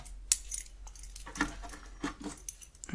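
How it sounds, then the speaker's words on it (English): Metal keys jangle and clink up close in a quiet room, with a sharp clatter near the start and several lighter rattles as they are handled and shifted around. "Some keys."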